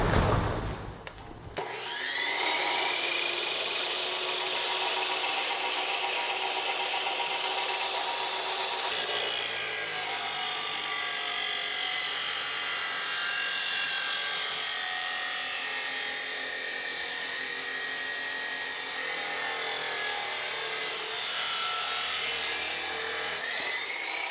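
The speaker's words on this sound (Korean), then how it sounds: "한번 다시 절단해 볼까요?" An XCORT 14-inch high-speed cutoff saw (XJG05-355) spinning up and slicing through a workpiece, a loud sustained whining grind with a rising tonal screech that shifts partway through the cut, no talking.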